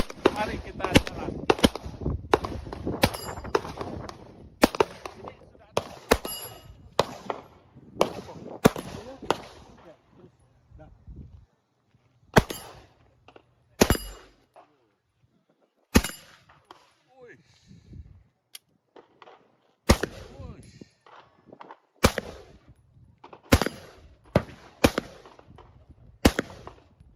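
Gunshots at shooting practice ring out in sharp single cracks, a rapid cluster at first and then spaced shots with gaps between, over intermittent talk.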